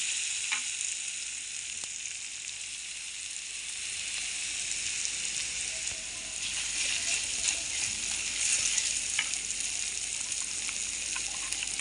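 Grated ginger paste fries in hot oil in a pan, a steady dense sizzle throughout with occasional stirring clicks and scrapes, no talking.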